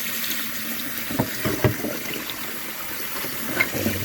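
Cold water running steadily from a kitchen tap into a sink while eggs are cooled for a Niçoise salad, a continuous close splashing hiss with a few small clinks.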